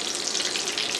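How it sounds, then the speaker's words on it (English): Stuffed mashed potato rellenos de papa frying in hot oil give a dense, even sizzle, close and steady for about a second with no voices. "After 3 to 4 minutes of frying, the rellenos de papas are ready."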